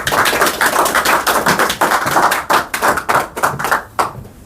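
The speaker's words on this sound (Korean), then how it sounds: "많은 박수로 환영해 주십시오." An audience applauds to welcome a lecturer at a university emeritus professors' special lecture, a dense, steady wash of many hands clapping close by that thins out toward the end.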